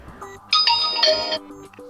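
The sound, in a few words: phone notification ringtone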